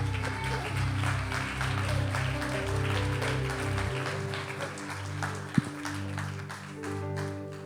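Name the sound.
church audience applauding Suzanne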